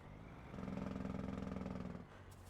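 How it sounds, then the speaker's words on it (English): Engine brake on a Kenworth T680 truck in American Truck Simulator, a steady loud rumbling drone that swells in for about one and a half seconds, then drops back to a lower engine hum. "I don't know if that's like a good Jake sound to have or not"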